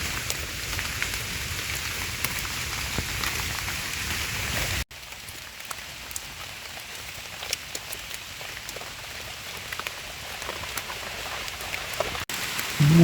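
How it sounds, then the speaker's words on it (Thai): Rain falls steadily on surfaces outdoors, a dense, even patter with occasional louder drops throughout. "ฝนตกครับพี่น้อง"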